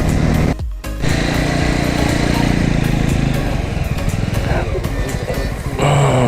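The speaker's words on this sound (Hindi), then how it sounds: "यहाँ पे थोड़ी सी बाइक हमें स्लो करनी पड़ी" A motorbike rides along a road in Gujarat, its engine droning loudly and steadily up close, briefly cut near the start and easing off later as the bike slows down toward a railway crossing.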